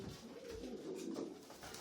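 Racing pigeon cocks in a clean, well-ventilated loft coo in a soft, low, continuous burble, faint and close, with no talking.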